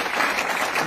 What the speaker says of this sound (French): Continuons à acclamer.